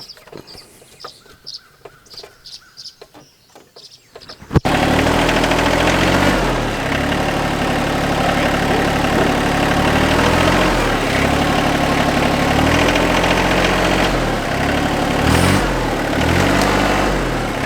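A tractor engine is started and then runs loud and steady close by, a dense rumbling idle with a faint rhythmic pulse. Before it starts there are quiet tapping sounds.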